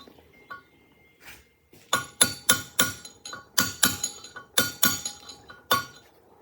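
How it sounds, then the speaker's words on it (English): Repeated sharp metallic clinks, about a dozen in uneven bursts, close and bright, as a metal installation tool strikes a stuffing box during a pump fluid end replacement. "the installation tool has made contact with the stuffing box"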